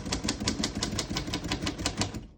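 Keys strike rapidly on a 1938 O Model vintage portable typewriter, a steady run of about a dozen crisp mechanical clacks in quick rhythm, close and alone.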